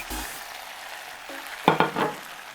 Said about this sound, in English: Again, I'm going to give it a quick stir.